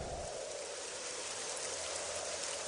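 Steady rain falling in a continuous even hiss, with no breaks and no voices.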